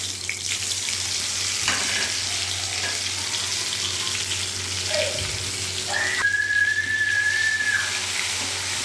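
Spice paste and bay leaf frying in hot oil, a loud continuous sizzle close up, with a brief tonal squeak and light clatter partway through.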